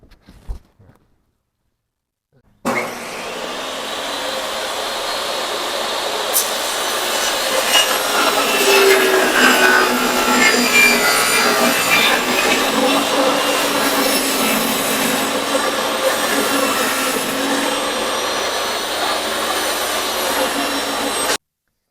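A table saw rips a wooden board into strips. After a few faint knocks and a brief silence, the motor roars up and the blade whines loudly and steadily through the wood for nearly twenty seconds at close range.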